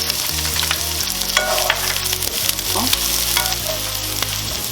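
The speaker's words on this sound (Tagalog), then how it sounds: "Painitin lang ng mantika sa kawali. Tapos unahin natin ang sibuyas." Onion sizzles loudly in hot oil in a pan while laing is cooked, a dense continuous crackle with occasional stirring scrapes.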